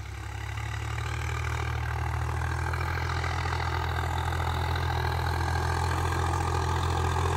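Swaraj 45HP tractor engine running steadily in third gear, a loud continuous low diesel rumble and drone throughout, close by with no talking.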